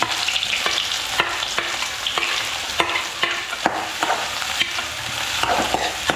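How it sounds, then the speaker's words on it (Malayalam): Sliced onions fry in oil with popped mustard seeds in an iron pan, a constant close sizzle broken by repeated scraping stirs at a regular pace; nobody speaks. "സവാള ഇട്ട് വഴറ്റാം."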